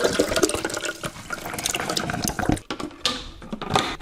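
Water and soaked nuts pour and splash into a 64-ounce blender container, a close, gurgling stream with small clattering knocks, pausing briefly before resuming.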